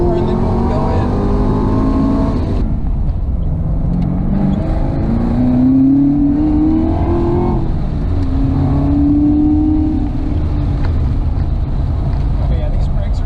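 Camaro ZL1 1LE lapping Hallett Raceway, its engine droning loud and close with rising and falling revs through gear changes, while people talk over it inside the cabin.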